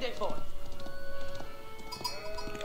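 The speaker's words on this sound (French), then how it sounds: "Regardez-moi tous ces moutons!" Sheep bleating in the medieval strategy game Age of Empires IV, set in an English landscape; several overlapping bleats with game ambience and light hoof-like taps, while someone talks over them.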